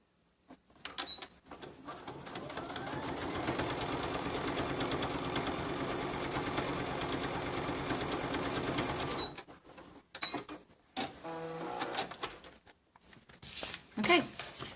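A sewing machine stitches the top edge of a zipper tote, running steadily and close for about seven seconds before stopping, followed by fabric shuffling and handling noises.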